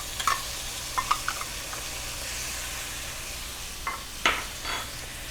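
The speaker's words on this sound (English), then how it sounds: "And just stir that around until it's well combined." Diced canned green chilies stirred in a hot cast iron pan: a soft background sizzle with several light spoon scrapes and taps against the pan, quiet and close.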